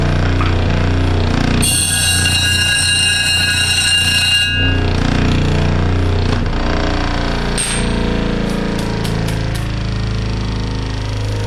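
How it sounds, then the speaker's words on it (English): A homemade disc sander spins with a steady motor hum, a bright high whine rising in the middle as it works, then a few sharp metallic ticks near the end. "So that's what my homemade disc sander does."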